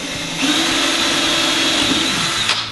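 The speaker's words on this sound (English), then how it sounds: "You just got to drill a bit of a pilot hole just to make it easier" A power drill boring a pilot hole for a homemade rod holder, a loud, steady whirring whine that starts abruptly and holds for about two seconds before winding down.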